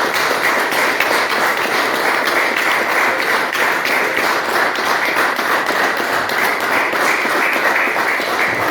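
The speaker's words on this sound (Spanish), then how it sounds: "Fuerte las palmas" Loud, dense applause fills the space without a break, many hands clapping together after a theatrical dramatization of "La princesa inca" at a book presentation.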